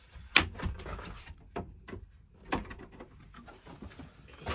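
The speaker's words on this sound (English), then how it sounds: "So the door, you can either have it as the bathroom door" Interior bathroom door of a Malibu Van 640 LE RB GT Family camper van being opened and shut, giving several sharp knocks, clicks and latch snaps at close range with quieter handling rustle between them and no talk.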